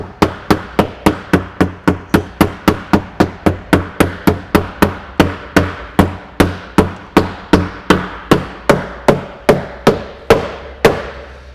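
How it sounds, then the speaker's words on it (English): A mallet taps a multi-slide stacking frame join tight, about thirty sharp, evenly spaced knocks in a steady rhythm, close and loud, each with a short ringing decay. "A mallet's nice just to give it a little tap."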